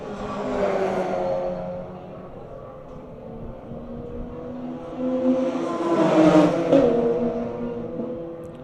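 Racing cars, among them a Mazda, run a historic racing heat on a circuit, engines droning and swelling as they pass, with a louder surge near the end; commentary talk runs over the engines.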